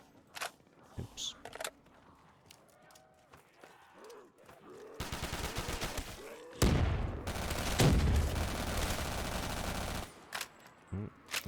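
Video-game gunfire crackles in several bursts, a few isolated shots early on, then dense sustained volleys in the middle and a final shot at the end, mixed with quieter game noises.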